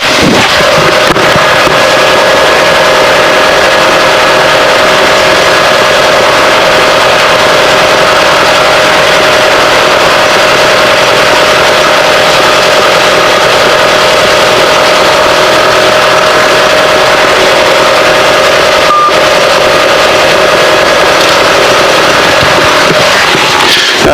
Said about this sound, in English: Let the engine cool off a little bit.